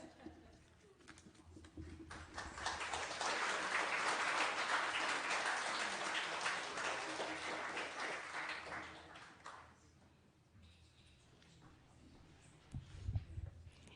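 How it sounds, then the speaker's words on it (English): Congregation at a Unitarian Universalist service applauds a speaker named Jeff, faint and somewhat distant clapping swelling to a peak then fading away, with low thumps near the end. "Another round of applause for Jeff."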